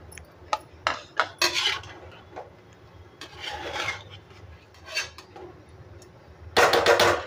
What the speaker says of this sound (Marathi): आता हे हलक्या हाताने आपल्याला वर खाली करायचं.